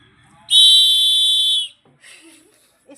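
A whistle blown hard by a child at home: one loud, shrill, steady blast lasting about a second, followed by quiet voices nearby.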